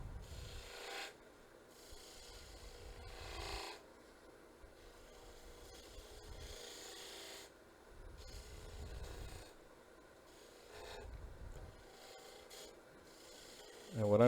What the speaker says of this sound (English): this is the detail gouge, and I'm rolling it into the groove